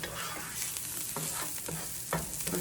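Pasta being stirred in a pot, with scraping and clattering strokes at an irregular rhythm over a steady background hiss, close and moderately loud, no voices.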